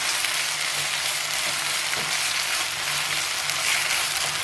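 Continuous loud sizzling and frying in a pan of vallarai (brahmi) greens, a steady hiss with occasional soft stirring scrapes, no voices.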